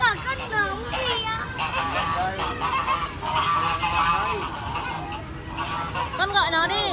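Geese honk loudly on a farm alongside other poultry, with repeated wavering calls close by, mixed with children's chatter and excited voices.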